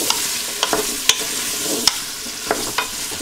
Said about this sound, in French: Je mets les pommes de terre dans le cookéo.